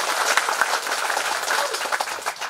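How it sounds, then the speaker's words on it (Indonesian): An audience of students and staff claps at a vocational school event in Sidikalang, a dense continuous round of applause filling the room with no voices over it. "tepuk tangan dulu"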